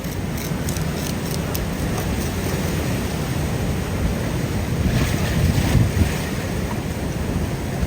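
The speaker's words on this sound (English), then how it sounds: "The water level was rising higher and higher, and the waves were getting larger." Ocean waves wash and surge at high tide beside a jungle island shore, a steady broadband roar with wind buffeting the microphone and a slightly louder swell near the end.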